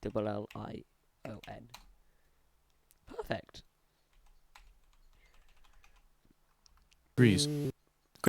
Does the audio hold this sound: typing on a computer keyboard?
yes